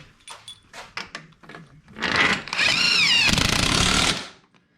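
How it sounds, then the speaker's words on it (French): A power tool drives bolts into the starter of a BMW 645i V8. A few clicks and knocks come first, then a loud, close whirring burst lasts about two seconds. "On va visser ce côté-là."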